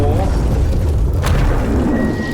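An explosion in a Skibidi Wars animation makes a loud, deep, rolling boom with a sharp burst partway through, under a voice.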